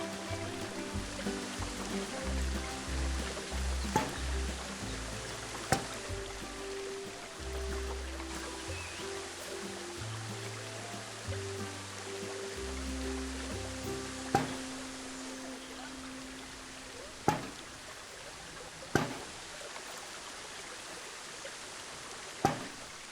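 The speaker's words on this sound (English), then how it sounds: "you can create nice waterfalls with them" A waterfall flows steadily in the zoo-building game Planet Zoo, a soft continuous rush of falling water under low game music, with a few sharp clicks scattered through.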